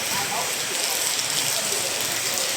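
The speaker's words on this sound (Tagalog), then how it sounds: "Grabe ang ulan oh." Heavy storm rain pours down in a dense, steady hiss that fills the scene, loud and close, while people talk underneath it.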